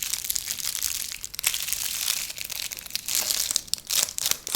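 Long fingernails scrape quickly across a bar of soap, making dense, crisp crinkling and crumbling scratches in fast uneven bursts, close and fairly quiet, with no talking.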